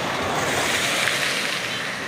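Rainwater dripping from trees after a downpour patters onto an umbrella as a steady, close, dense hiss with no distinct pauses.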